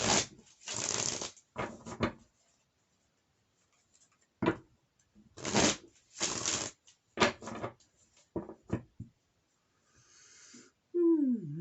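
Rider Waite tarot cards shuffled by hand in several short riffling bursts separated by quiet pauses, close and fairly soft.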